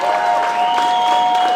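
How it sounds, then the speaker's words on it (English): A crowd applauds at an amateur 72 kg Muay Thai fight night, with continuous dense clapping and faint cheering under a sustained tonal hum throughout the short stretch. "let's have a round of applause for Stephen and for Danny,"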